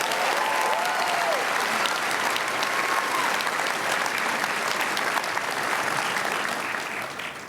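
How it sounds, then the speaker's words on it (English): Large crowd applauding at a high school graduation ceremony in Long Beach, a loud, sustained roar of clapping that holds steady throughout before easing slightly at the close. "give yourselves all a big round of applause"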